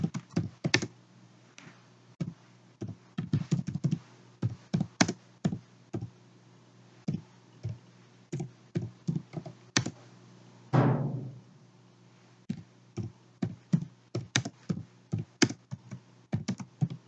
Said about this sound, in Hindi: उसके बाद आंसर मुझे यहाँ पे टाइप करना होगा।